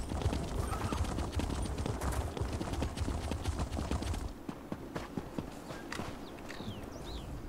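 Horse hooves clip-clop steadily as a mount is ridden through a city gate in The Elder Scrolls Online, the rhythmic clopping dense and close at first, then thinning out over quieter ambience with a faint whinny-like call near the end.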